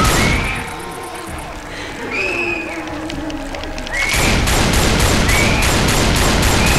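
Repeated gunfire and chaotic combat noise from the zombie shooter Left 4 Dead 2, shots popping through a dense, loud game mix that swells sharply near the end with a sustained roar of bursts.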